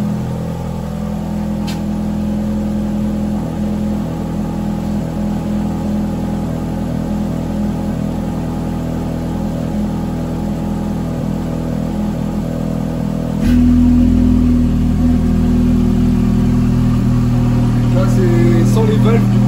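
A Ferrari V8 engine runs with its exhaust valves open, giving a steady, throbbing drone that jumps noticeably louder near the end as the revs rise.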